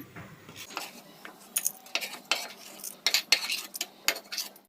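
Roasted dal being scooped from a pan into a bowl in a home kitchen while making amla pickle, with a series of sharp metallic scrapes and clinks of a spoon against the pan, close and fairly loud.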